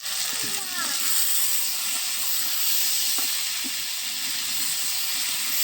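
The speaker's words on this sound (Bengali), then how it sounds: "আর একটু কষাবো, আর 1 মিনিটের মতো কষাবো" Potato and eggplant sauté in a pan with dried fish, giving a steady, close hiss and sizzle with a few faint stirring knocks and a brief voice near the start.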